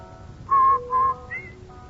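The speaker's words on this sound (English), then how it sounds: "No wonder Rinso users whistle while they wash." Someone whistles a short cheerful tune of three clear notes, close and alone against faint background noise.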